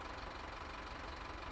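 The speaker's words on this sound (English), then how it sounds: "Engine running." A parked coach's diesel engine idles with no driver aboard, set on the Isle of Wight in Train Sim World 5: a steady, even mechanical rumble with a faint knocking texture, constant and unbroken.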